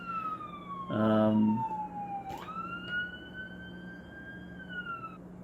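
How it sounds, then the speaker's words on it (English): A fire hall siren next door wails steadily at moderate distance, its pitch sliding down then back up, with a low horn-like blast partway through. "Sorry about the sirens there, guys."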